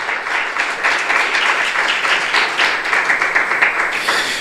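Church congregation applauding during a Spanish-language worship service, a dense, steady wash of many hands clapping at moderate loudness for several seconds without a break.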